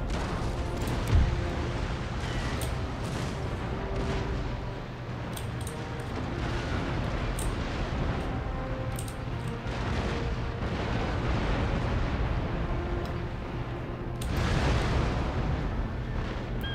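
Naval cannon broadsides in Empire: Total War, dense continuous booming and rumbling artillery fire from warships, loud and sustained with overlapping distant and near blasts throughout.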